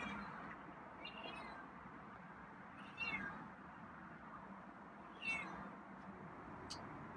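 A feral cat named Scruffy gives a few quiet, separate meows spaced several seconds apart over a soft, steady background hiss.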